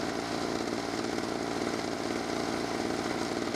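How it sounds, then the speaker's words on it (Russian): A Skif petrol generator made for electric wheelchairs runs with a steady, buzzy, even engine drone, close up and unbroken, with no voices over it. "уже генератор вращает"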